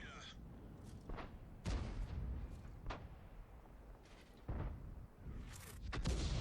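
Tank cannon fire in a video game sounds as several sharp, separate booming shots spaced a second or two apart, fairly quiet against a low background rumble.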